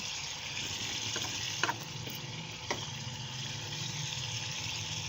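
A spoon slowly stirs kaleji tikka masala over a medium flame, with a steady frying sizzle throughout and a few soft scrapes and clinks of the spoon against the pan.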